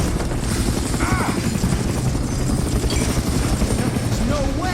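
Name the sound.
helicopter in the video game Far Cry Instincts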